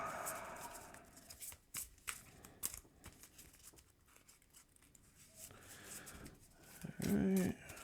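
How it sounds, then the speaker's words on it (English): A deck of cards is shuffled during a tabletop Marvel Champions card game: a quiet, close series of crisp riffling and patting bursts scattered across the span. "I think that's enough shuffling."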